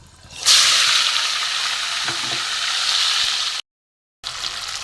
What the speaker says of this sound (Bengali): এবার চিকেন মশলা দিয়ে মাখা আছে, আমি এতে দিয়ে দেবো।